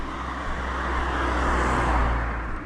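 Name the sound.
small car passing by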